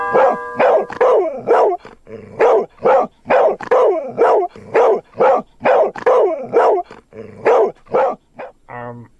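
A dog barks repeatedly in a steady run of loud, close barks, about a dozen in nine seconds, with a short whimper at the end and no talking.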